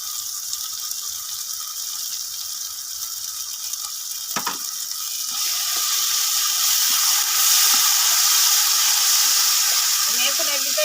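Fried spices sizzle in a pan with chili powder, chili sauce and tomato sauce for homemade flour noodles: a steady hiss that grows louder and fuller midway, with a faint voice in the background.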